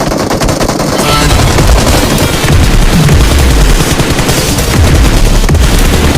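Loud, rapid bursts of automatic gunfire in a video game crackle continuously, dense and close, with scattered heavier shots mixed in.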